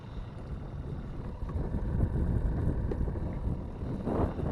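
Wind buffets the microphone on a fishing boat out on the water, a continuous low rumbling roar that swells and eases in gusts, with no voice heard.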